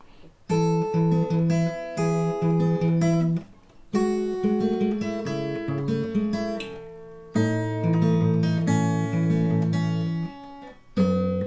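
Clean finger-picked acoustic guitar playing a melodic pattern of plucked notes from a song, in three phrases, with brief pauses between them and no talking.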